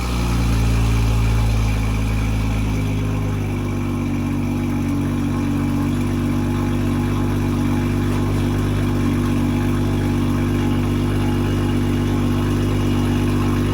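A BMW M340i with catless downpipe and stock exhaust idles with the exhaust valve closed, a deep, throaty rumble settling slightly lower after a few seconds and holding a constant drone.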